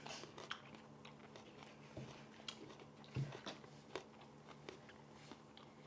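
Family members biting into homemade pickled onions, sharp crisp crunches and chewing at irregular intervals with a low background hum, close and fairly quiet, no talking.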